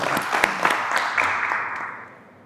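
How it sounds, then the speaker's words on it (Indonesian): Audience applause at an Islamic religious lecture for National Santri Day, a dense wash of clapping held steady and fairly loud for about two seconds before tapering off. "ya boleh tepuk tangan lah"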